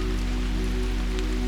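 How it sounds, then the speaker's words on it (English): Steady rain falls at night, a dense, even hiss of drops on surfaces that continues unbroken throughout. "as the rain continues to fall"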